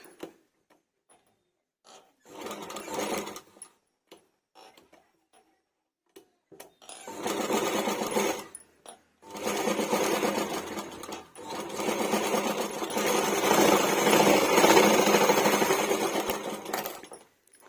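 A sewing machine stitches a blouse in short and long bursts: a brief whir, a pause, then longer continuous runs of rapid mechanical clatter, heard close and alone.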